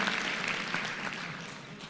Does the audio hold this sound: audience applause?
yes